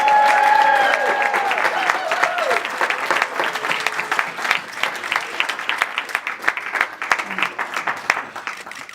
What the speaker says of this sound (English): can you join me in a round of applause and a cheer?